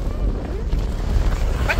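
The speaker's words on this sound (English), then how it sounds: "it's so windy" Wind buffeting a microphone outdoors while walking, a steady low rumble and gusting roar throughout, with a faint voice partly buried under it.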